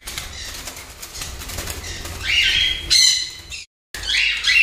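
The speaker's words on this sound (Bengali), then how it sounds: "দেখুন এখানে আমার উপরে কোকাটেল পাখি খুব ছটফট করছে" Cockatiels squawk loudly in short harsh bursts as wings flap in flurries nearby, with a brief drop to silence before the squawking returns.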